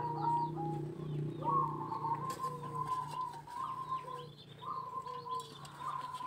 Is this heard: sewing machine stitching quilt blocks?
no